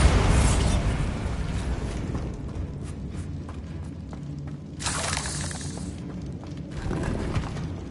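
The Bombarda blasting spell in Hogwarts Legacy opens with a loud shattering explosion, then debris rumbles and crackles, with further bursts around the middle and near the end.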